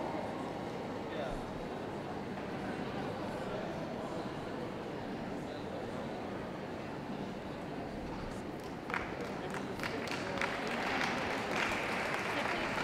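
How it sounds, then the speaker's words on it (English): Audience applause at the UK Toydog 2015 show, a soft steady patter of clapping from a distant crowd, with a few sharper nearby claps toward the end. "please do give them some applause"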